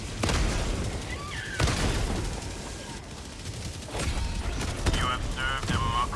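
A heavy autocannon fires in the Helldivers 2 video game, sounding as a few separate loud booming shots spaced over several seconds amid battle noise, with a person talking between them.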